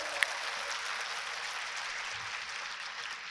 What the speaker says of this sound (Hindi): खुद में तालियां बजाएं जोरदार आप।